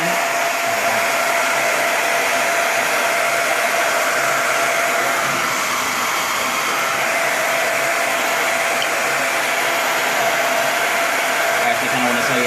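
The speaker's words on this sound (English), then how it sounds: "it's going to take a minute with the regular blow dryer" A regular blow dryer aimed at a Samsung Galaxy Note 4 to heat it for opening gives a close, steady whooshing hum that runs unbroken throughout with no talking.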